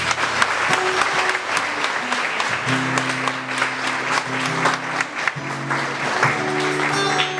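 A church congregation applauds at a sermon, with sustained dense clapping throughout and tonal music or voices layered underneath.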